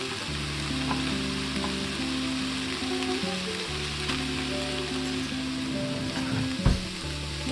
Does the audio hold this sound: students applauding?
no